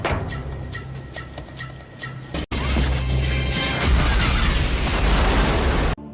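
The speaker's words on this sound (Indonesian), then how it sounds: "helikopter yang dipenuhi para penyerang meledak akibat bahan peledak" A helicopter blown up by planted explosives: a loud, sustained explosion roars and rumbles for several seconds after a series of sharp mechanical clicks, then cuts off abruptly.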